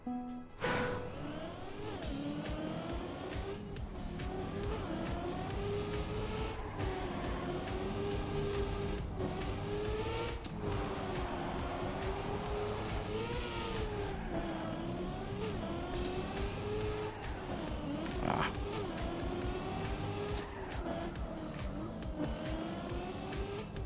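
Stadium Car racing in the Trackmania game, a continuous high-revving engine whine rising and falling with gear changes and turns, with tire squeals and skids through most of the run.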